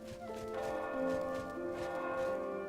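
A church bell tolls inside the fantasy video game Oblivion, its rich, ringing overtones layered and sustained as a couple of strikes decay over a few seconds with no speech.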